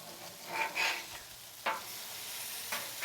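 Smashburgers sizzle on a griddle in a steady, moderate hiss, with a few scraping and tapping sounds from a spatula.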